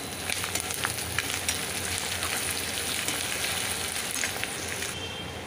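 Ginger and garlic fry in hot oil for a tuna pickle, producing a dense, continuous sizzle with faint intermittent stirring, steady and close throughout, with no speech.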